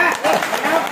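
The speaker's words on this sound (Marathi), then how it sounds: "जोरदार टाळ्या वाजवून आपण ह्या सोहळ्याची सुरुवात करतोय।" Brief burst of audience applause opening a ceremony at a Shimga festival for Bhairavnath, a crowd clapping loudly and densely for about a second.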